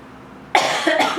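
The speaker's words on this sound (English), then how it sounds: "so my sinuses are draining and it's making me cough" A pair of harsh, close coughs from sinus drainage after laser surgery, bursting out after a short quiet stretch, the second following right on the first.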